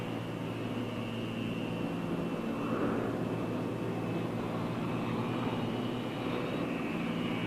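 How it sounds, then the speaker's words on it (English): A Convair F-102 Delta Dagger jet interceptor flies past with a steady, broad engine roar and hiss, holding at a fairly even loudness with a slight swell midway, and no voices. "the Convair F-102 Delta Dagger. Flying in any kind of weather, it attains speeds up to 850 miles per hour"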